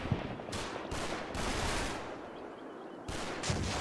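Machine gun fire in the World War II strategy game Combat Mission: Battle for Normandy, heard as quiet, distant bursts of rattling gunfire and rumbling shots separated by short gaps.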